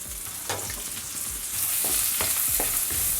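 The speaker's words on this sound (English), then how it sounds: "So I'm gonna add more oil, vegetable oil. Then frying some onions." Onions frying in vegetable oil in a wok for prawn fried rice, a steady close sizzle with bright crackle and occasional stirring clinks, growing louder partway through.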